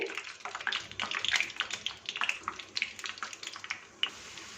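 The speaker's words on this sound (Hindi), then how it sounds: "अच्छी दरमियानी आंच पे 2 मिनट के लिए ऑयल को अच्छी तरह से गर्म कर लिया है। इसमें रोल को फ्राई कर लेंगे।" Samosa rolls fry in hot oil over medium heat, making a close, uneven bubbling and crackling sizzle that swells and fades in bursts before settling lower near the end.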